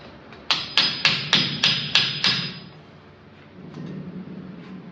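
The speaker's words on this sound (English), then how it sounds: "Always use a claw hammer." Seven quick, sharp metallic claw hammer strikes ring out in a steady rhythm, close and loud, followed by a softer pair of taps after a pause.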